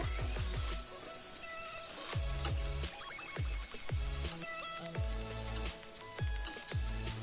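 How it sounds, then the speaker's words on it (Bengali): Semai vermicelli frying in a pan for upma gives a steady, faint sizzling hiss throughout, under a repeating low, plucked melodic background tune. "বেশিক্ষণ ভাজতে হবে না একটু লাল লাল করে ভেজে নিলেই হয়ে যাবে"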